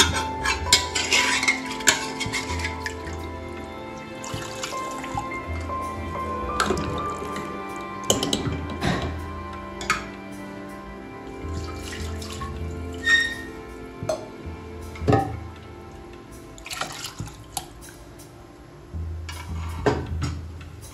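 Hot water poured from a pot into simmering chicken curry (chicken rassa) in a home kitchen: steady dripping and splashing with scattered clinks of metal utensils and pots, no voices.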